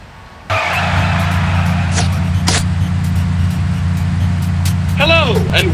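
Augmented reality car in Sam & Max: Beyond Time and Space roars into a loud, steady engine drone, then tires skid and squeal with a rising whine near the end.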